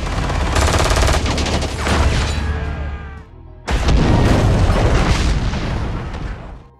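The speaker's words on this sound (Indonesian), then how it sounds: "Kemudian Travis pun meledakkannya" Two loud, sustained explosions of gas canisters stored on a boat in a movie roar and crackle one after another, filling the space with dense, rumbling noise.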